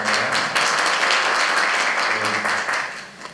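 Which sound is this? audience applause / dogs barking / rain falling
audience applause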